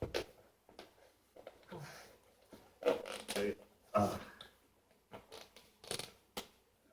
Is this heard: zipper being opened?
yes